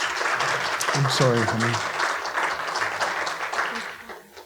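An audience applauds in a broad, dense wash of clapping that fades toward the end, with a brief spoken voice over it.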